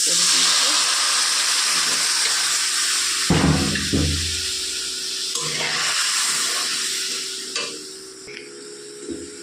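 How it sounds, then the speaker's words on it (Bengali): Water goes into a pan of sizzling, fried spice paste for a thin rui fish curry with potato and pointed gourd; a hissing fry gives way to a sudden gushing burst and bubbling, then quieter sizzles and light clatters. "পুরো মশলাটা কষানো হয়ে গেছে এবার দিয়ে দেবো আমি জল"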